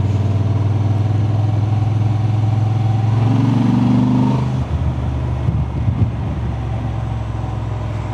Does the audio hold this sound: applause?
no